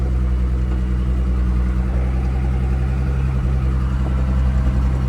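A truck tractor's diesel engine runs at a steady, loud idle close by, with a deep constant rumble and no voices over it.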